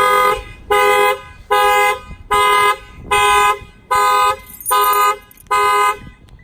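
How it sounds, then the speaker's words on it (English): A 2019 Lexus GS350 factory car alarm blares in a repeating pattern of loud, evenly spaced tonal blasts, eight in a row with short gaps between them. "the factory alarm will fire off"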